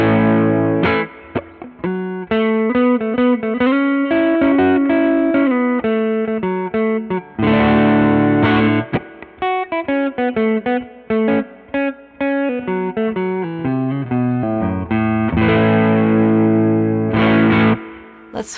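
Electric guitar on its neck P90 pickup running through a mildly driven pedal, playing up-close melodic runs broken by ringing, crunchy chord hits, loud and alone.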